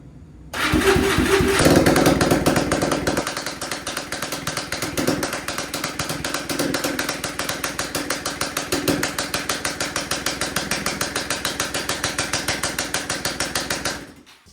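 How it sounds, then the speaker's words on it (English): A quad ATV engine cranks and catches within a second, then settles into a steady, close, chugging idle that runs evenly for over ten seconds before cutting off. "So we went to go start the quad. It started just fine."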